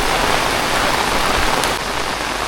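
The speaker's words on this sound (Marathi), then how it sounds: "पाऊस जोरदार आहे" Heavy rain in the Konkan, a dense, loud, steady downpour drumming on surfaces, close and unbroken, with no voices.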